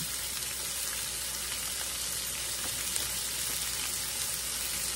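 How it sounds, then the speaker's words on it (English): Sausage bites fry in a pan with a steady, dense crackling sizzle that keeps an even level throughout, close by and free of speech. "I want to cook some of that fat out of it in here and get a little bit of crispy edges on my sausage bites"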